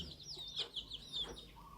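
A bantam hen, a cream-coloured mother hatching chicks on a farm, gives a series of soft, short clucks and chirpy calls spaced through the moment, fairly close and alone with no talking.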